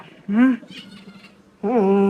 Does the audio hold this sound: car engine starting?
no